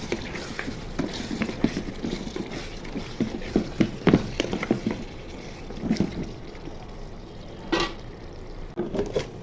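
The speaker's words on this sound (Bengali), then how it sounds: "এখন তেলের উপর ভাজা ভাজা করবো।" Kala bhuna beef fries in oil in a pan, a soft crackle under repeated scraping and stirring clatter from a spoon, with a few sharper knocks against the pot.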